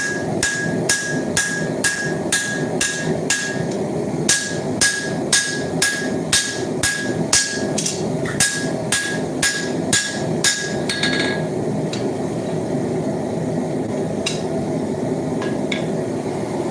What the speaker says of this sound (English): we're going to go over the power hammer again.